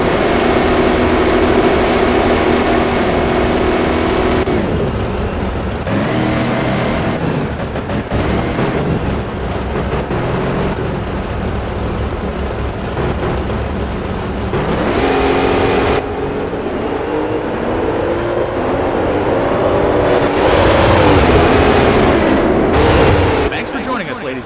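NHRA drag racing cars roaring through a final run in a video game, loud sustained engine howl rising and falling in several long bursts, with a commentator talking over the noise.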